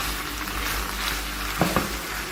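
Boiled spaghetti stirred into a pan of frying chicken for chow mein: a steady, faint sizzle with a couple of brief clinks or scrapes near the end.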